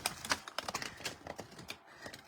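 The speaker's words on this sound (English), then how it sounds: "This is our cutting blade. So we're going to cut this right in half." A cutting blade on a paper trimmer slices a sheet of cardstock in half, producing a quick close run of crisp clicks and scraping ticks over about two seconds.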